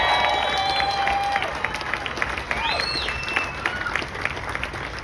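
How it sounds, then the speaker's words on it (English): Audience applause at a medical freedom gathering, sustained clapping from a crowd with scattered whoops and whistles over it, fairly loud and continuous, with some voices mixed in. "give yourselves a round of applause for rejecting that plan again"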